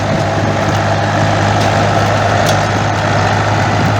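A tractor plowing black soil on a field plot gives a loud, steady, low engine drone at close range with an unbroken mechanical rumble and no voices.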